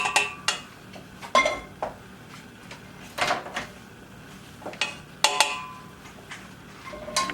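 Utensils clack and scrape against a pan while pasta is tossed with butter and Parmesan cheese, sharp irregular knocks and clinks separated by quieter stirring, with no talking.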